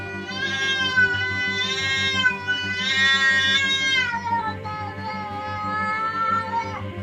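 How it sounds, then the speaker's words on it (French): A domestic cat meows in drawn-out, wavering cries that run nearly continuously, close and fairly loud, with a steady low hum underneath. "Et mon chat qui miaule."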